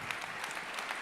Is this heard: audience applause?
yes